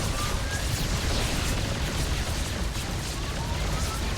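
In a StarCraft 2 Terran vs Zerg match, Yamato cannons fire amid dense battle noise: rumbling blasts and bursts layered into a loud, continuous roar with no clear pauses.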